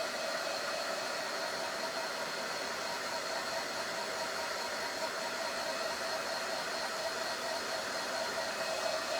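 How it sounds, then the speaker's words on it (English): A heat gun blowing steadily over a fineline crackle finish, a continuous even whoosh of fan and hot air at close range with no pauses or talk. "Is it gonna dry fully with the heat gun?"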